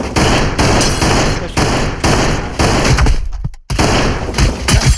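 Rifle gunfire in the VR game Voxel Playground comes as loud, dense, rapid bursts of shots, broken by a short silence before the firing resumes.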